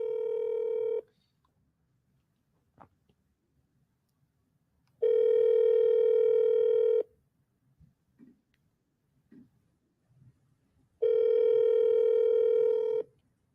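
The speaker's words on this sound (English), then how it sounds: "This is the only time I'm double dialing today" A landline telephone plays long steady dial or ringback tones in three evenly spaced bursts, with quiet faint clicks and small noises in the gaps between them.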